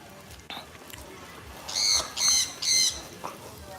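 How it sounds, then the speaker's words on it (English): Parrots at a garden zoo area in Kingston, Jamaica, letting out three loud, harsh squawks in a row over faint outdoor background noise. "Look at that big parrot, guys."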